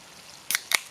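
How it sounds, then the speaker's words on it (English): A can of Pepsi cracked open in a kitchen before being mixed into batter for fish, two sharp metallic snaps close to the mic. "So I'm going to crack this can of Pepsi."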